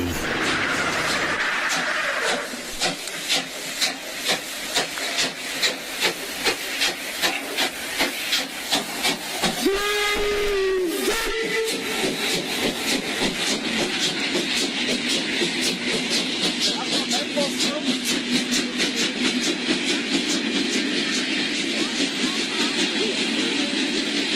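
A steam locomotive chuffs past in a steady rapid rhythm over a constant hiss, and a short whistle blast sounds midway through the run.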